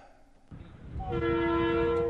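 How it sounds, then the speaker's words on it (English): A freight train rumbling in as it arrives at Christchurch, then a loud sustained multi-tone horn blast over the rolling rail noise. "The freight train thundered into Christchurch on time this afternoon"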